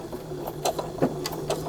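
Quick bursts of a sewing machine stitching through a paper journal page with a fabric tuck, short uneven runs of close, soft mechanical clatter over a quiet hum.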